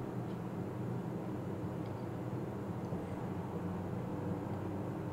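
Light aircraft engine in a flight simulator drones steadily and faintly as power increases, a continuous low hum with no talking over it.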